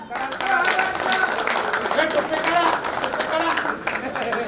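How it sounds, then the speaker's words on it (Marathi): Sustained clapping from a crowd at a staff reunion gathering at the Bhiwandi depot, honouring a guest from Satara, steady and moderately loud, mixed with faint background voices. "संजय जाधव साठी टाळ्या."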